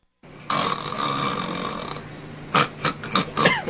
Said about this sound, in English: People who snore often don't realize just how loud they really are.